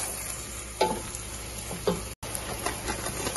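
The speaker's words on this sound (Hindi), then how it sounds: "8-10 हरी मिर्च डालेंगे, मिक्स करेंगे, अच्छे सॉफ्ट होने देंगे।" Eight to ten green chillies sizzle in a pan of hot oil for chicken changezi, with a steady frying crackle and two brief, louder scrapes of stirring, close up and without talk.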